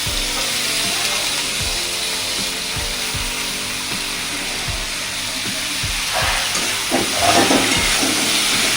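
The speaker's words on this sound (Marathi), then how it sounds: "तेल सुटसपर्यंत असं थोडं हे करायचं नंतर ही भाजी टाकायची" Taakla leaf greens hit hot oil and are stir-fried, a steady sizzle with repeated scraping and clacking of a spatula against the pan, the frying swelling louder toward the end.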